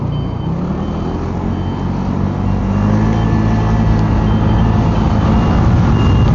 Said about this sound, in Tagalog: laki ng truck na yan, Gar